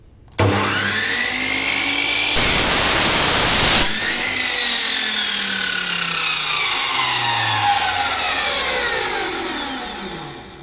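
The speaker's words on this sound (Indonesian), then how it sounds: "Cukup mudah sekali untuk memotong besi hulu" A loud spinning 14-inch Ossel abrasive cut-off saw grinds through iron, with a harsh burst of rasping noise early on, then a steady whine that slowly winds down.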